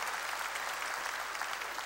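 A church congregation breaks into steady applause during a sermon, a dense, even burst of clapping filling the space for a couple of seconds.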